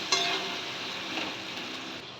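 Ginger garlic paste frying and being stirred in a pan for mutton curry, a soft steady sizzle with faint scraping that starts sharply and slowly fades, fairly quiet and with no talk.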